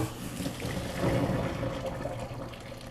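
Cold water runs steadily from a kitchen tap during outdoor grilled vegetable cooking, a continuous close splashing rush lasting the whole moment with no talk over it.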